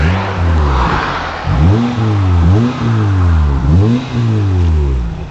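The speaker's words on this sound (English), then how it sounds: "I will now rev it for you gently" A car engine idles close by and is revved gently several times, each rise in pitch easing back down to a steady idle.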